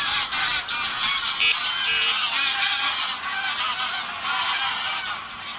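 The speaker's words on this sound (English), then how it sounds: "The geese are going crazy." Geese honk loudly and continuously by a lake during carp fishing, a dense, overlapping clamour of calls from a flock nearby.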